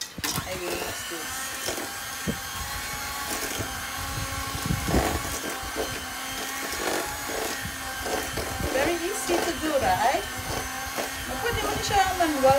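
An electric mixer whirs through prune cake batter in a home kitchen, a steady buzzing hum with clattering bumps against the bowl, moderately close, while a person talks over it.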